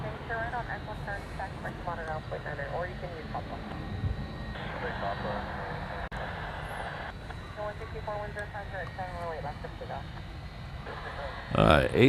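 Jet airliner engines roar steadily during a takeoff roll from runway 8 left at Honolulu, a broad sustained rumble with a person talking over it throughout.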